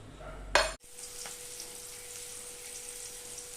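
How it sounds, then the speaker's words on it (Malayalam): A pot of curry with crushed coconut, curry leaves and coconut oil simmers steadily, a soft continuous bubbling hiss after a brief louder clatter at the start. "തേങ്ങ ചതച്ചെടുത്തിട്ടുണ്ട് ഇനി ഇതൊന്ന് ചെറുതായി തിളക്കട്ടെ"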